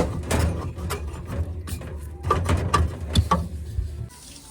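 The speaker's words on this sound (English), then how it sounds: "So what you're going to do is reach back here and undo the bulb." Light bulb being unscrewed from a Frigidaire freezer, heard as a run of small close clicks and plastic scrapes in uneven bursts, with a soft thud near the end.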